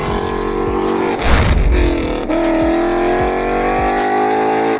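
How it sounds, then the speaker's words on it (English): Ford Mustang GT V8 fitted with Stainless Works headers and exhaust revs hard, a deep throttle blip swelling into a loud burst, then dropping back to a steady rumbling idle with rhythmic low pulses. "It sounds like you want a V8 to sound."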